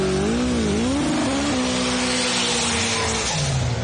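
Chevette drag race car engines idle and rev loudly at the start line of a drag racing event, rising and falling pitch with a steady roar, close and alone.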